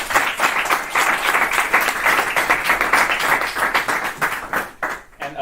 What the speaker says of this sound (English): Give him a round of applause and let's start.